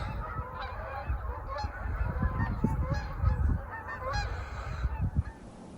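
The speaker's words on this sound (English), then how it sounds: "Lots of geese in the skies when I look really close." Geese honk repeatedly overhead in flight at dusk, a loose chorus of calls drifting at moderate distance over a soft low rumble, with no talking.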